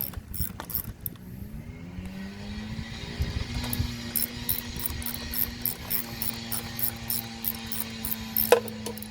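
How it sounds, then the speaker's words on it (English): A concrete saw cutting a driveway a few houses away gives a steady mechanical whine and grinding, faint and distant, with some clinking and rattling nearby. "Got a concrete saw a few houses down working on a new driveway."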